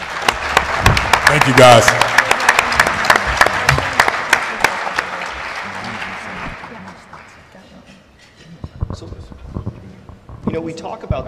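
Audience applause at a cannabis social equity panel discussion, a dense crowd clapping that swells loud then gradually thins out, with a few scattered claps and someone speaking briefly near the end.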